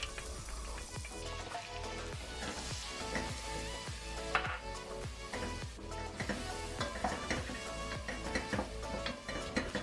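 Onions frying in oil and butter in a pan for a creamy garlic mushroom soup, stirred throughout: a continuous crackling sizzle with regular scraping and tapping strokes at a moderate level, and no one talking.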